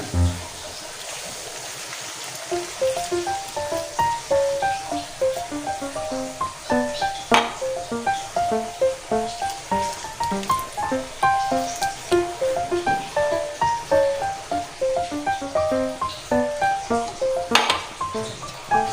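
Tuna sizzles and crackles steadily in hot oil, a continuous bubbling hiss with tiny pops throughout.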